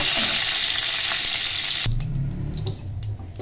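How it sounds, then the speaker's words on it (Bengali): Fenugreek, nigella and fennel seeds fry in hot oil with a loud, bright hiss that fills the first two seconds. The sound then drops to a quieter, lower crackle with scattered pops. "এই গরম তেলের মধ্যে মেথি, কালো জিরে এবং মৌরি ফোড়ন দিলাম। এগুলো একটু ভেজে নেব।"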